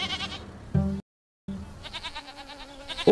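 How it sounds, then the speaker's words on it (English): Goat bleating in the Farming Simulator 25 trailer: two wavering, nasal bleats close up, the first at the start and the second after a brief silent gap, with a short third call beginning at the very end. "Guys, that's definitely a goat."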